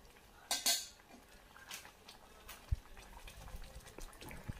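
A spoon stirring thick upma in a pan gives quiet scraping and a few metallic clinks and taps, one louder clatter early on, close but faint.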